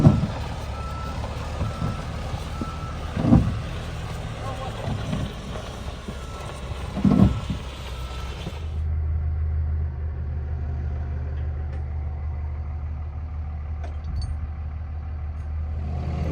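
A massive tractor works at close range during a farm truck recovery, its heavy engine rumbling steadily while reversing beeps sound intermittently and a brief louder thump stands out midway.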